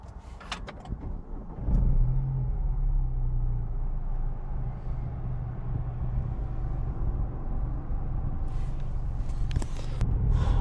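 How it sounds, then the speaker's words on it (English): A 2024 Nissan Juke 1.0 is started from inside the cabin: a few clicks, then the engine catches and settles into a steady, close idle hum that runs on to the end. "Let's start the car."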